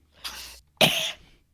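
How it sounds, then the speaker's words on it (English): A person coughs twice in quick succession, close and clear, the second cough louder and longer, with no talk over it. "Why are you coughing? Because I've got something in my throat."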